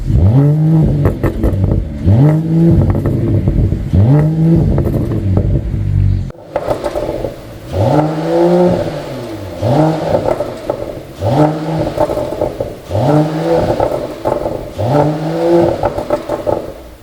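A Mercedes-AMG CLS53 engine revved repeatedly through an aftermarket pops-and-bangs exhaust, each throttle blip rising in a loud rasping exhaust roar, about a dozen evenly spaced pulls, close and powerful.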